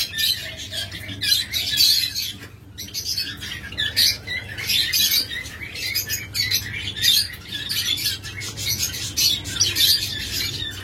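Lovebirds and budgerigars in a bird shop keep up a steady, dense chatter of high chirps and squawks throughout, with a low hum underneath and no talk.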